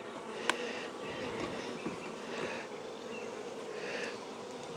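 Honey bees buzzing in a dense, steady drone inside an opened hive box, a close continuous hum with a few faint clicks and no talk.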